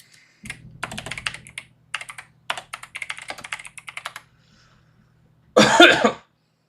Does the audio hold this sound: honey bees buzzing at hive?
no